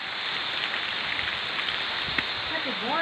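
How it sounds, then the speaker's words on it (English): Steady rain patters densely on surfaces beside a tilapia fish pond on a farm during harvesting, a constant hiss close to the microphone with a brief voice near the end. "Oh, raining, raining, my camera is getting wet."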